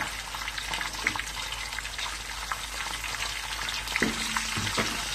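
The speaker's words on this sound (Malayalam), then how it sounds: "കുറച്ച് കറിവേപ്പില ഇടുന്നുണ്ട്." Curry leaves crackling in hot oil for a mango pickle, a dense continuous frying hiss with scattered pops and a few utensil taps, close by and without voices.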